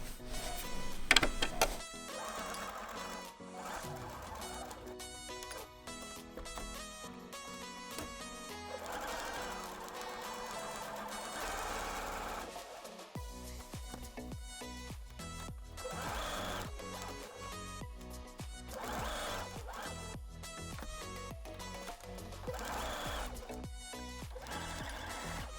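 A sewing machine stitching fabric for a sponge-lined pouch, a fast continuous mechanical whirring in repeated runs with brief pauses, close and steady, with no talking.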